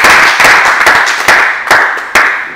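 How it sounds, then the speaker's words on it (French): Audience applause at a graduation ceremony in the Democratic Republic of Congo: a dense, steady wash of hand clapping with a few sharper, louder claps standing out, fairly close and with no voices. "Nous vous encourageons avec vos applaudissements."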